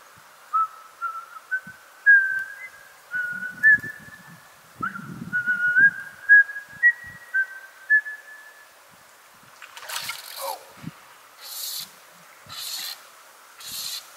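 A person whistles a wavering, tuneful melody in short phrases outdoors in grizzly country to deter bears, followed by bursts of hissy rustling and a few soft thumps.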